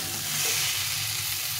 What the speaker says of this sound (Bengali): আলুটা কষা হয়ে গেছে, সুন্দরভাবে কষিয়ে নিয়েছি।